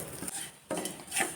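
Cumin, pepper and grated coconut roasting in a pan while a spatula scrapes and taps the metal in two or three quick strokes, close and fairly clear.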